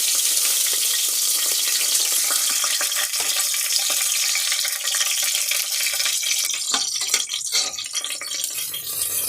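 Whole spices, cinnamon, cloves, bay leaf and dried and green chillies hit hot oil for horsegram biryani, sizzling and crackling loud and close with stirring and bright spitting bursts, and no voices.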